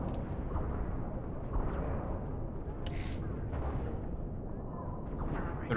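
Gunfire and booming explosions in the Halo Reach ODST mod video game, heavy low rumble of artillery-like blasts running throughout with a few sharp shots and metallic pings, moderately loud with no talking.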